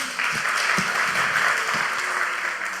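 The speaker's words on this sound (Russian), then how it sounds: "Давайте поприветствуем его аплодисментами." A church audience applauds to welcome a visiting pastor, an even, sustained round of clapping heard alone at moderate loudness with a few soft thumps underneath.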